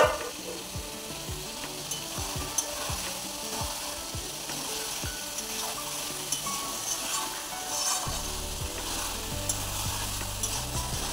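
Potatoes fry with spices and chicken in a pan, a constant close sizzle broken by repeated scraping strokes of a spatula stirring at an uneven pace, with no talk.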